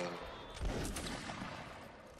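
Musket volley fire in the Napoleonic Wars video game, a dense burst of overlapping shots around the middle of a short stretch with continuous battle noise throughout.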